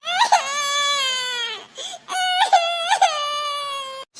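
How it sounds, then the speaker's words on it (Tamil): An infant wails loudly and close by in sustained, rising cries broken by short catches of breath, with a brief pause midway and no other sound competing. "புள்ள அழுவுது பாரு."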